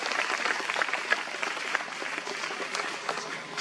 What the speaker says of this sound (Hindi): ताली बजाकर हम प्रभु को धन्यवाद देते हैं